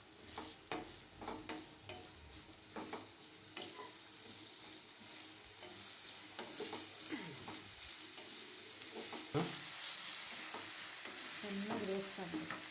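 Onions fry in hot oil for prawn masala, a steady sizzle with repeated scrapes and clatters of a spoon stirring the pan, fairly close and with no talking.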